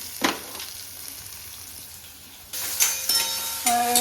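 Onions fry in a pan toward browning with a soft, steady sizzle, then a louder crackling burst and a few clinks as they're stirred, close up with no talk.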